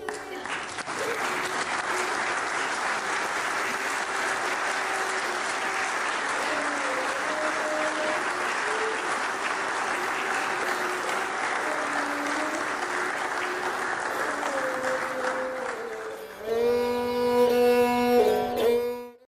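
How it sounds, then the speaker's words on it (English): Mourners stand and applaud at a funeral, a sustained dense wash of clapping that runs steadily for about sixteen seconds before music swells in near the end, with faint voices mixed under the crowd. "Can we all stand and applaud my dad?"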